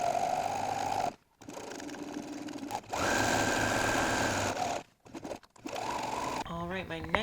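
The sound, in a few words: sewing machine sewing a seam with zigzag stitch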